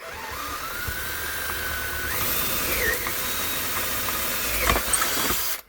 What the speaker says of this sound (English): So I'll try one first, and I'll drill that, and we'll see where it comes up.